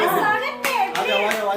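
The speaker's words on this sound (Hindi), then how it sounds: "प्लीज जोरदार तालियां मेरे स्वागत" A small group claps briefly at a birthday gathering to welcome a speaker, several short bursts of hand claps mixed with nearby talking voices.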